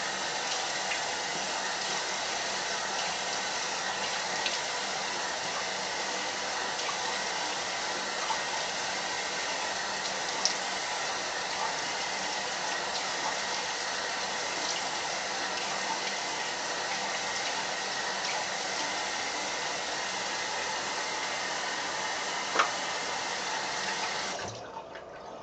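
Cold tap water runs steadily over a synthetic paintbrush, a continuous rushing gush with faint splashes, loud and close, that stops abruptly near the end.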